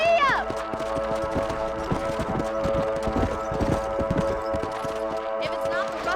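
A horse gallops in Red Dead Redemption, its hoofbeats thudding in a steady quick rhythm under a sustained musical hum, with a voice speaking briefly over it.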